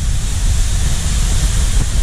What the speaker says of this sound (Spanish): de hecho ahorita ya se escucha un poco el sonido del agua.